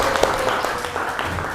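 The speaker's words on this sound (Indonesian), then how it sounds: "Tepuk tangan untuk kita semua." A short burst of classroom applause, students clapping together in an Indonesian lesson, with a few sharper claps poking out of a brief, even patter.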